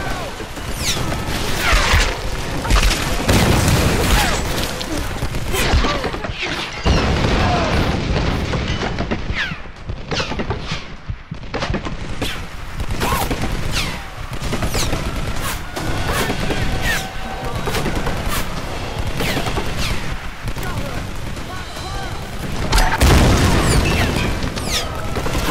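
Gunfire and heavy booms during a combat scene in the Tomb Raider: Definitive Edition video game, with dense, loud blasts and crashes that continue with little pause throughout.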